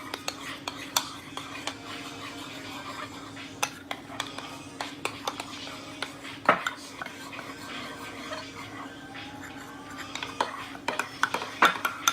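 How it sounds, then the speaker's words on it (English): A spoon stirs flour into vegetable broth in a pan, with scattered light scrapes and clinks against the metal over a low steady hum, quiet and close, with no talking. "Then I'm going to stir it so it can get a little thick."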